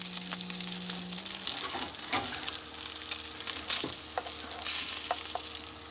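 Leftover food warms in a hot pan with a steady, close crackling sizzle, broken by occasional scrapes and clicks of stirring.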